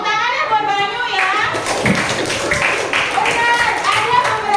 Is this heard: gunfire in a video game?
no